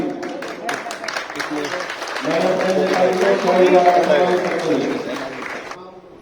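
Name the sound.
applause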